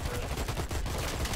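Gunfire in the first-person shooter Dirty Bomb comes as a rapid, dense burst of close, loud shots over a busy background.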